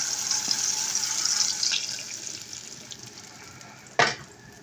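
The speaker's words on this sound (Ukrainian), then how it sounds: "Коли помідори обжарились, заливаємо їх зверху яйцями." Tomatoes frying in a pan as beaten eggs are poured over them for an omelette, a steady bright sizzle filling the kitchen with a sharp louder splash of liquid near the end.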